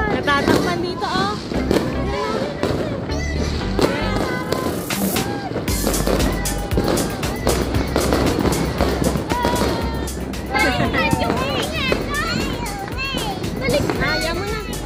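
New Year fireworks go off in a dense, continuous barrage of booms, pops and crackles outdoors, loud and sustained, with voices and children chatting over the noise.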